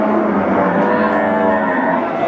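A Limousin cow lowing at the crowded Wirosari cattle market in Central Java, one sustained, loud moo filling the short moment over a dense background of market noise.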